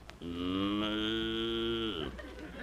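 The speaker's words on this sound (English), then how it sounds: "cows" A cow mooing as a sound effect in a radio comedy set on an ordinary farm: one long, steady, loud moo lasting about two seconds that drops in pitch at the end.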